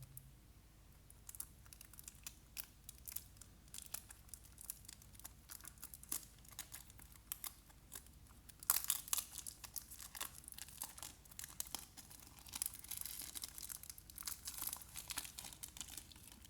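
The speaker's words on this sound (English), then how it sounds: "Let's unbox it." Plastic packaging from a Tomica 112 Isuzu Erga Sumikko Gurashi toy bus crinkles and crackles close up, a quiet, irregular series of rustles and small tearing sounds that grows busier partway through, with no talking.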